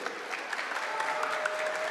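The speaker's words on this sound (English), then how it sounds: "Everyone in the Gamers8 arena, please give it up one more time for Hen and Queasy" An arena crowd at a Gamers8 Fortnite esports event claps continuously, a dense, fairly distant patter of many hands, with faint voices mixed in.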